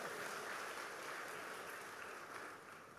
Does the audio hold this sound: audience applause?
yes